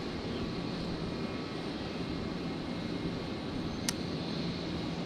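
A Jetstar airliner taxiing on the ground at Brisbane Airport gives off a steady, broad engine roar at moderate distance, with one sharp brief click partway through and no voices.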